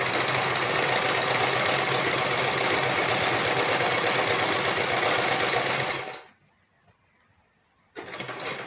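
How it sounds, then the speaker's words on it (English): A sewing machine runs steadily while stitching the crotch seam of a short knicker, a loud continuous rapid whirring hum that stops abruptly, falls silent for under two seconds, then starts again. "we want to start sewing our short knicker now"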